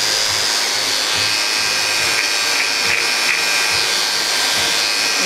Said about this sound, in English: Coming down with my trimmers.